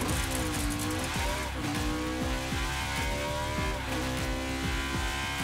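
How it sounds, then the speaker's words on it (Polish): NASCAR Toyota Camry engine in the Rocket League video game, a loud continuous high-revving race engine with repeated quick rises and dips in pitch as it accelerates and shifts, alone without talk. "Przelećmy tutaj do dźwięku silnika."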